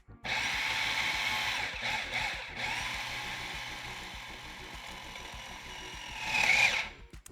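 A food processor works dough for dulce de leche bars, its motor whirring loud and close in a long continuous run with a few brief dips and a final surge before it stops; no one speaks.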